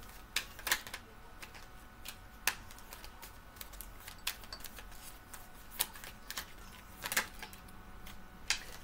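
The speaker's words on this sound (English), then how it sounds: "One more shuffle, y'all." Tarot cards being shuffled up close, a run of quiet, sharp riffling clicks and snaps arriving irregularly over a faint, steady background, with no voices.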